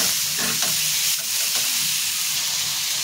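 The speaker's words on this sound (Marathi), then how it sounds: "त्याच्यामध्ये मी टोमॅटो टाकून घेते आणि हे सुद्धा त्याच्यामध्ये भाजून घेणार आहे" Chopped onion and tomato fry steadily in a hot pan for egg biryani, a continuous close sizzle with a few soft stirring scrapes, no voices.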